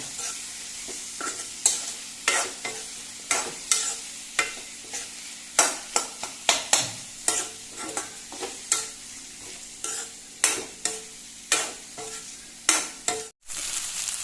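Bitter gourd frying in oil in a pan, a steady close sizzle broken by regular sharp bursts of stirring and scraping, with no talk.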